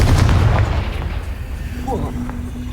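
A Confringo fire spell blast in Hogwarts Legacy erupts as a loud, deep booming burst right at the start, then decays into a lingering low rumble with a faint tonal hum near the end.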